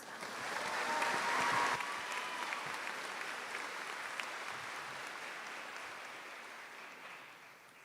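Applause fills the hall at the 2024 Miami Trace High School commencement ceremony, a broad wash of clapping that swells early, then slowly thins and fades toward the end.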